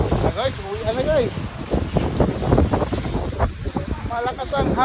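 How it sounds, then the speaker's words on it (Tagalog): Strong wind gusting outdoors in fall, a rough, continuous rumbling roar buffeting the microphone while people exclaim over it. "Malakas ang hangin."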